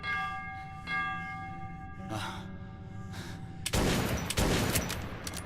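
Warning shots fired in Metro 2033, a post-apocalyptic shooter. A sudden loud, close burst of gunfire cuts through a quiet humming ambience, followed by a second crack.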